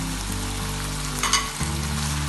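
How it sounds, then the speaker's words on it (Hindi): Shredded cabbage and other vegetables sauté in a hot pan for a shawarma filling, with a close, steady sizzle and a brief scrape of stirring midway. "सब्जियों को ज़्यादा नहीं पकाएंगे, सिर्फ 2 से 3 मिनट के लिए सौटे करेंगे।"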